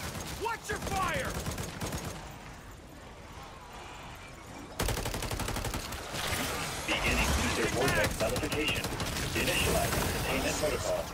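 Rapid gunfire in a Modern Warfare 3 zombies match, with bursts of automatic fire that thin out briefly midway and then resume louder and denser, mixed with clatter and occasional talk.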